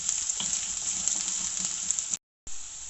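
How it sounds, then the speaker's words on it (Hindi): Onions, nearly browned, fry in a karahi pan with a continuous bright sizzle that stays even throughout, broken by one brief moment of silence before it resumes. "प्याज ऑलमोस्ट हो चुकी है, 1 मिनट के लिए बस फ्राई करेंगे।"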